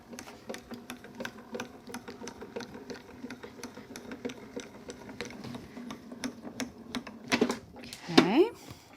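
Grand Calibur die-cutting machine cranks a card sandwiched in a Bed of Roses embossing folder, giving a steady run of quiet rhythmic clicks and ticks, with a couple of brief louder squeaks at the end.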